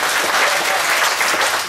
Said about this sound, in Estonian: Tehke aplaus, see on väga hea.